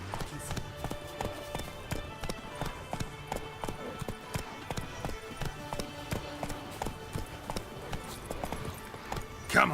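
Roach, the horse in The Witcher 3, gallops with a steady rhythmic clip-clop of hooves over a low ambient drone, hoofbeats near and even throughout, with a brief louder sound at the end.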